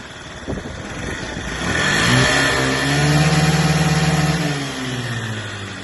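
A Honda Tact AF79 fuel-injected Japanese scooter engine runs close by, its hum rising as it revs up and holds, then easing back down toward idle, with no talk over it.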